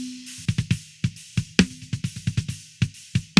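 A snare drum run through a transient shaper gives a string of sharp, punchy hits in an uneven rhythm, with a low kick drum booming underneath, close and dry with no voices.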